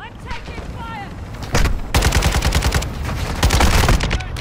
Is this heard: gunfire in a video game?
yes